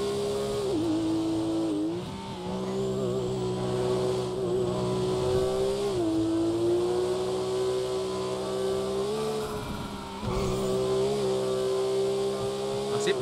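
Porsche 911 GT3 engine in a racing video game screams at high revs, with pitch dropping at brief braking points and climbing again, loud and continuous with faint tire squeal.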